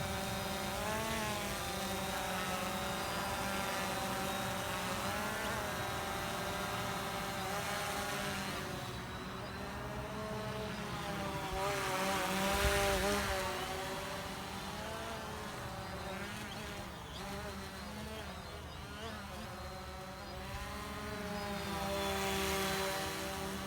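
A XiroDrone Explorer drone hovers and flies nearby, its rotors producing a steady, buzzing whine that swells and dips slightly in pitch throughout, with no talk over it.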